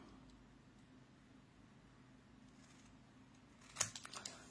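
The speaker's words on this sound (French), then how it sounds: "avec les ciseaux, on va venir ajuster" Scissors trimming a card label in paper crafting: a few quick, crisp snips cluster near the end after a quiet stretch of faint room noise.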